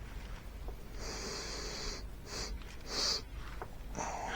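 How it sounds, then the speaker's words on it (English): A person sniffs a pineapple-flavoured product at close range, with a few short nasal inhalations standing out against a steady background hiss. "Sniff."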